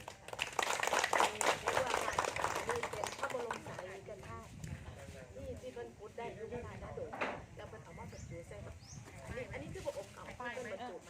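An audience of visiting study-tour guests claps in an indoor hall, a dense burst of applause that is loudest at first and then thins and fades, with voices talking faintly through it.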